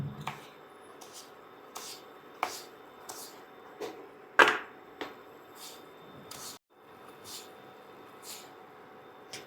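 Knife cutting potatoes by hand for french fries, with a series of crisp, sharp chops falling at a steady, roughly even pace, heard close and without talk.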